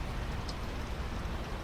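Steady rain falls during a hot-season downpour in Cambodia, a dense, even hiss of drops spread across the whole stretch with no pauses, fairly soft and constant, with no voices over it.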